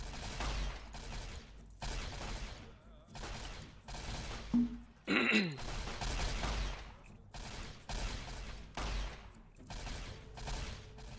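Gunfire in Arma 3, a military shooter video game, as bursts of shots under radio chatter and talking, with a louder burst near the middle.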